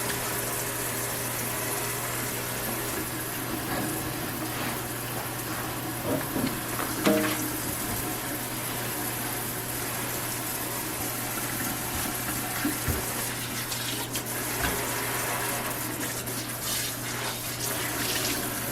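Tap water running steadily into a kitchen sink to rinse it after cleaning, a continuous close splashing rush with a few small clanks and no pauses.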